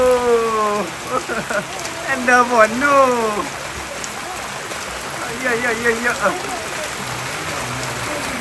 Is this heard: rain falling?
yes